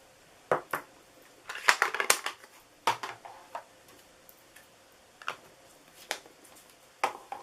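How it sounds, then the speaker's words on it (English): Scissors cutting tuxedo black card by hand, giving a series of crisp snips and small clicks, some in quick clusters and others spaced apart, close and quiet. "I'm going to do it down here so that I can just cut it by hand"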